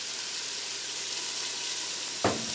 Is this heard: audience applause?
no